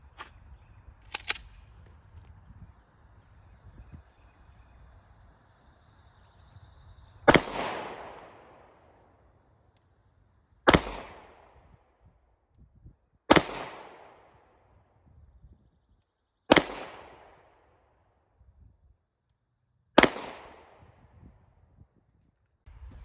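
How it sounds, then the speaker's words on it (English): Pistol shots fired at a target on a range, five sharp reports spaced a few seconds apart with quiet pauses between, fairly loud with a short decay after each. "slow steady squeeze the trigger when I'm ready to shoot"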